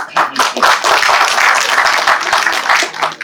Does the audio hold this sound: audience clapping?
yes